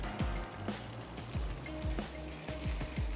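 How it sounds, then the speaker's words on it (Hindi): Stock and milk pour into a cooking pot of spice-fried meat, hissing and sizzling with bubbly splashes and soft stirring taps, close and steady, with no talking. "साथ ही मैं इसमें ऐड कर दूंगी आधा कप दूध।"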